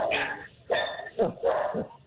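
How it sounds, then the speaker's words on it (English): A dog barks in a rapid burst of four or five loud, close yips and barks, excited and unaccompanied by talk. "Is that where all the barking's coming from?"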